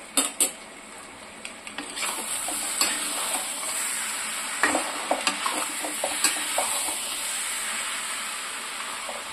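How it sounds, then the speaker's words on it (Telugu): Chicken pieces frying in a pan until reddened, a steady bright sizzle throughout with intermittent clinks and scrapes of a spoon stirring against the pan. "ఎర్రగా వేయించుకున్నాము వీటిని"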